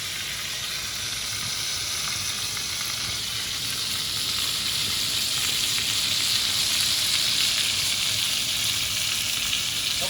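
Soft shell crabs deep frying in hot oil, a dense continuous sizzle and crackle that stays close and steady, gradually swelling slightly, with no talking.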